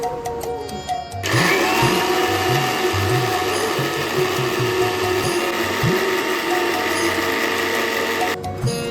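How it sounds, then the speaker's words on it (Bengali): A kitchen mixer grinder whirs loudly and steadily as it grinds green chillies and poppy seeds into a smooth paste, running continuously for several seconds with a rattling mechanical edge before stopping. "মিক্সিতে কাঁচা লঙ্কা পোস্ত মিহি করে পেস্ট করে নিলাম।"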